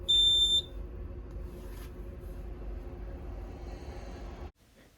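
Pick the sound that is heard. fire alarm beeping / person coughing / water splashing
fire alarm beeping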